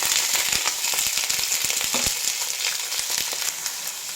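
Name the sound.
ivy gourd and curry leaves sautéing in pan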